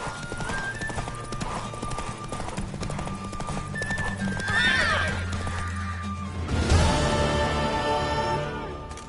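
A horse in The Witcher 3 video game gallops with rapid clip-clop hoofbeats, then lets out a loud whinny near the end over game music.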